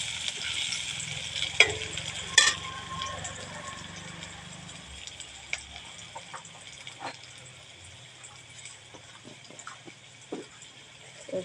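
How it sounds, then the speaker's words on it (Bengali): Chopped onion, garlic, ginger and a whole chili fry in a pan, a soft steady sizzle broken by scattered scrapes and clinks of stirring, a couple of sharper knocks early on, fairly quiet and close. "দিয়ে একটু নেড়ে নিচ্ছি।"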